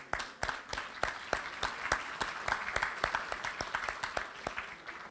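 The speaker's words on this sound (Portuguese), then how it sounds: "vou pedir uma salva de palmas" A small audience at a leaders' debate event applauds speakers invited on stage: sparse, fairly faint hand claps fall in a loose, regular rhythm.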